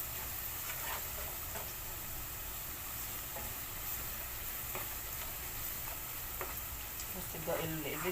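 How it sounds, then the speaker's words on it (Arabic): Carrots being stirred and fried in oil in a pan, a continuous soft sizzle with occasional scraping clicks from stirring, moderately quiet throughout. "هقلب فيهم كده شويه لغايه لما الزيت بتاعي يبقى لونه كده لونه مصفر شويه من الجزر"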